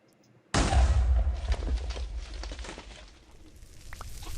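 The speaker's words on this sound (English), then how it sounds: "No, okay, so they're about the same size explosions." A star exploding in the Minecraft 1.7.10 supermassive tech mod lets out a sudden loud boom that opens into a long, rumbling, crackling roar and stays heavy throughout, with no voices over it.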